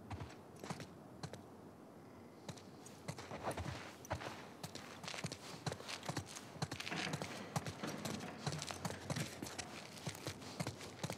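Steady hoof clip-clops of horses walking in The Last of Us Part II, a continuous clattering rhythm over background ambience, with faint voices now and then.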